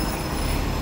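Hong Kong Light Rail train in the New Territories, heard as a steady, loud broadband rumble with no voices.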